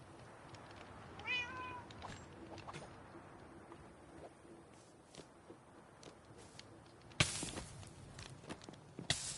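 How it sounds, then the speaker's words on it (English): A cat meows in a Minecraft SMP world amid game ambience and soft footstep sounds, with a louder burst of game noise near the end. "And we have to move this cat."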